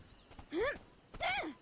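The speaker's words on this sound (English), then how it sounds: "More training on the horse, I guess." Horse hooves clip-clopping in the online game Black Desert, a few soft footfalls under two loud, rising-and-falling whinny-like calls from the horse, fairly close.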